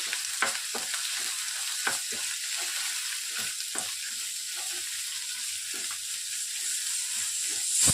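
Cucumber chutney heating in a pan on the stove, a soft continuous sizzle broken by a few scraping stirs and light knocks, close and fairly quiet, with no talking.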